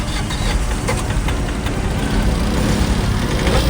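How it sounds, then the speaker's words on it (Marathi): A Maruti WagonR's engine runs steadily and loudly up close after a breakdown, with its bonnet opened, and a rough, even rumble persists throughout with no talking. "गाडी आम्ही परत बोनेट वगैरे उघडून बघितलं आणि गाडी चालू करून बघितलं."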